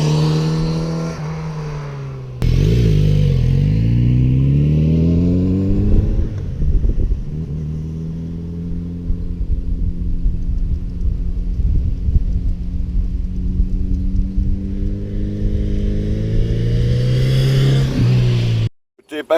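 A Kawasaki Z900 RS Café motorcycle engine revs up and pulls through the gears, a loud, close, continuous roar with rising and falling pitch as it accelerates, cutting off abruptly near the end.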